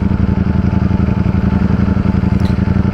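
A Ducati Streetfighter V4 motorcycle engine runs close and loud with a steady, rapid pulsing throb, holding an even idle-like rhythm throughout.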